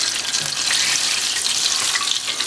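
Vietnamese-style chicken wings frying in hot oil, a steady, dense crackling sizzle that holds evenly throughout with no voices.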